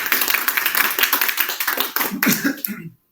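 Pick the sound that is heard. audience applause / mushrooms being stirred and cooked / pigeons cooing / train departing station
audience applause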